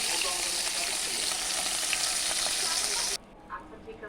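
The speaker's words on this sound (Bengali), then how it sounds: "সম্পূর্ণ মাছ ভাজা আমার শেষ।" Hilsa fish frying in hot oil gives a steady, bright sizzle with faint crackles for about three seconds, then cuts off abruptly to a quiet background with a few soft clinks.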